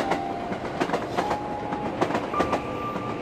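A train running on rails at a steady pace: a continuous rumbling roll carrying repeated clickety-clack wheel beats and a faint sustained tonal whine, fairly close and with no voices.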